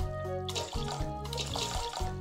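Water pouring steadily in the Bakery Simulator game, a continuous splashing trickle over a low background music bed with shifting tones.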